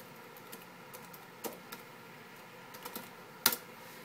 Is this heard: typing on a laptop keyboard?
yes